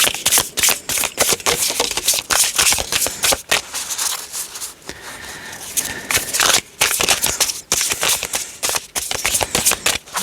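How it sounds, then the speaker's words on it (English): Tarot cards being shuffled by hand, rapid repeated riffling and flicking bursts of papery snaps in quick rhythm, close and loud, with short pauses between shuffles. "Do 2 more shuffles."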